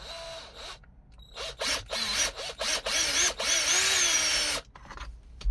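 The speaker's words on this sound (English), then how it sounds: "I need to drill a pilot hole" A power drill bores a pilot hole during a Jeep Wrangler brake controller install, revving in several short bursts that rise and fall in pitch, then one longer sustained run before stopping, close and loud.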